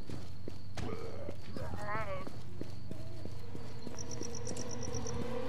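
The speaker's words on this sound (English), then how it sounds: "I can hear footsteps" Footsteps in the video game Warz, a rhythmic series of clip-clop thuds, close and steady, under people talking, with a brief whistle-like tone and short beeps over them.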